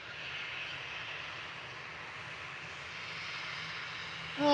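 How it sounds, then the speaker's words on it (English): A Ryanair Boeing 737 Max takes off from Liverpool Airport, heard as a steady, moderately distant jet engine roar that stays even throughout. "There goes the Ryanair Max off the Prosan."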